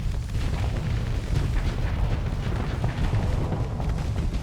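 The spaceship Manticore blowing up in the space combat game Starsector, a steady, loud, rumbling explosive roar with low booms layered throughout.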